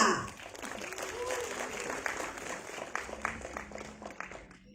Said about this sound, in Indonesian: beri tepuk tangan yang meriah Ari Dwi Andika